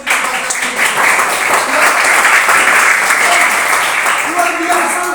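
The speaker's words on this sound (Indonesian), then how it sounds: "Tepuk tangan dulu untuk pemimpin upacara ini." Children at a church holiday Bible school camp applaud their ceremony leader, a steady, dense clapping from the group that fills the whole stretch, with faint voices mixed in underneath.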